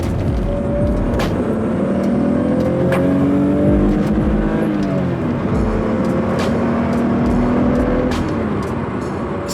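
A 30-year-old naturally aspirated Toyota Supra idles steadily while warming up, its engine drone close and continuous, with sharp ticks and small rev rises over nearly ten seconds.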